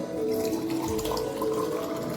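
Water is poured into a pot of spiced buttermilk being mixed in a home kitchen, making a brief, moderately close splashing and gurgling trickle with no speech over it.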